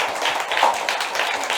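A church congregation claps together during a Christmas service, a dense, steady burst of applause filling the room for a moment.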